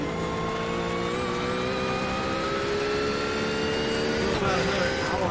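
Race cars at the 12 Hours of Sebring running on a rain-soaked track, a loud sustained engine whine with rising pitch and a continuous roar, steady throughout.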